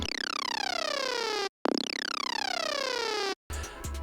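A synthesizer bass with unison and the random phase lowered plays as a buzzy tone whose pitch glides steeply downward, repeated twice with brief silences between, followed by a short different synth snippet.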